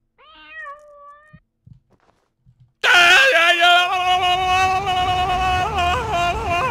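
A cat in a video game meows briefly and softly, then after a few faint taps a very loud, drawn-out synthetic-sounding meow wails continuously until the end.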